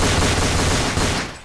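Loud, rapid automatic gunfire from Counter-Strike on a surf map, a dense unbroken burst lasting about a second and a half before trailing off, with no talk over it.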